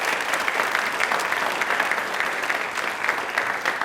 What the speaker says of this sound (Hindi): एक बार तालियां जोरों से अपने लिए बजा दीजिए प्लीज